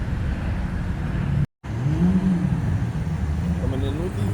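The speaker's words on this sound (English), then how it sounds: "Coming in with the Urus." A Lamborghini Urus rolls in at a cars and coffee meet, a moderate engine rumble passing nearby amid crowd chatter, with a brief dropout early on.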